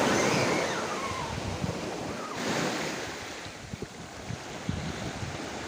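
Ocean surf washes onto a white sand beach in Sabang, a broad steady roar of waves with gusty wind buffeting the microphone throughout.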